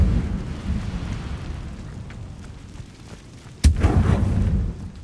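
An Incendio fire spell cast in Hogwarts Legacy bursts out as a sudden loud whoosh and boom near the end, following a stretch of low rumbling ambience, then fades out over about a second.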